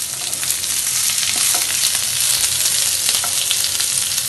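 Chopped capsicum stir-fries over a high flame, a loud, steady, close sizzle with scattered crackles and faint stirring scrapes and no voices throughout.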